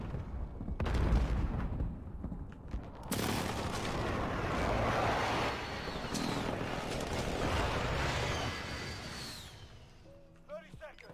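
Heavy airstrike blasts in a video game roll through a sustained, loud rumble of explosions and booming impacts, with a few sharp hits and whistling sweeps, continuing for most of the stretch before thinning near the end.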